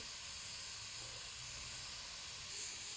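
A glassworking torch flame hisses steadily and evenly while melting glass to round a marble, a broad continuous rush with no pauses from start to finish.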